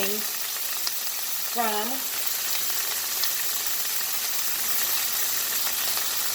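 Spinach sizzles in a pan with salmon juices, a loud, steady frying hiss with a brief voice over it near the start.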